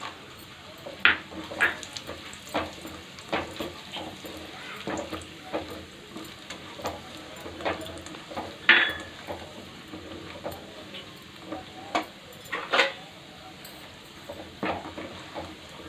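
Raisins fry in ghee for carrot halwa, a steady close sizzle broken by stirring scrapes and scattered sharp pops and ticks throughout.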